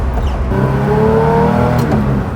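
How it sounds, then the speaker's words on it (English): A steady, deep engine rumble from an air-cooled Porsche 911 flat engine in a VW Kombi idles close by, low and throaty with a constant drone and no voices. "It's got that Porsche rumble."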